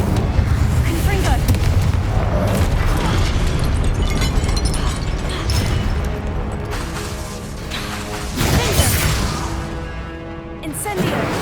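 Confringo explosive spell blasts in the video game Hogwarts Legacy, loud booming bursts continuing through the stretch amid dense game effects and music, with fire spells and voice lines mixed in.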